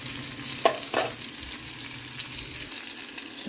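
Onions frying in a pan in a home kitchen while breakfast is made, with a steady low sizzle, a couple of sharp stirring clinks near the start, and no talking.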